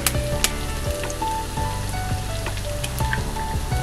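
An egg dropped into a hot pan of crispy pork sisig made from pork loin and ears, crackling loudly with a dense, steady sizzle and scattered sharp pops throughout, close and with no voices.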